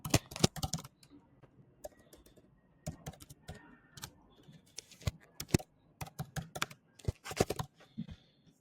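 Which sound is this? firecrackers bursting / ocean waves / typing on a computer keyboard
typing on a computer keyboard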